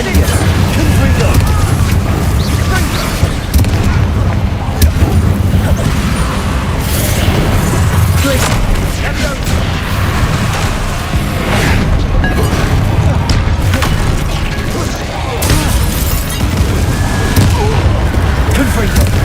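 Confringo blasting-spell explosions in the video game Hogwarts Legacy, with repeated loud booms and bursts over a dense, continuous battle din and voices talking throughout.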